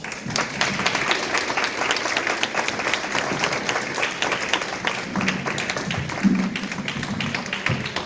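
A crowd applauds after a speech at a women's softball event, with steady, dense clapping holding throughout and a few individual claps standing out nearby.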